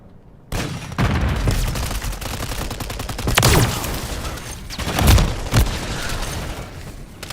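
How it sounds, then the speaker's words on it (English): Ray gun firing in Call of Duty Warzone, a loud run of sharp gunfire bursts with a few heavy booming shots standing out, continuous game action throughout. "Allowed me to get the ray gun. I got one kill with it."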